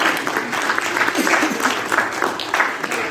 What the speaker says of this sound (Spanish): Un aplauso a este hombre que ya tiene algunos.